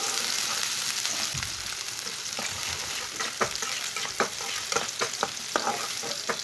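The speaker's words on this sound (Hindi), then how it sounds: "प्याज को हल्का सा ब्राउन कर लेंगे।" Finely chopped onion frying in oil in a pan while being stirred, a steady sizzle with repeated scraping stirs, close and alone, for a noodle dish.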